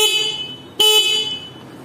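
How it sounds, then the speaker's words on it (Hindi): One short, bright horn beep from a Honda Hornet 2.0 motorcycle sounds sharply midway, close and loud over a low idling hum, then fades away. "अब हॉर्न भी आप एक बार सुन लीजिए, इसका"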